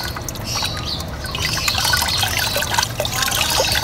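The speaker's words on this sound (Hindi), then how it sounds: "इस तरह से मसलते जाएं और जब आपको लगे कि अब बिल्कुल ख़त्म हो गया मुल्तानी मिट्टी का पानी" Water trickles and drips as wet multani mitti (Fuller's earth) is kneaded and squeezed by hand, a steady close wet splashing with small bright drips.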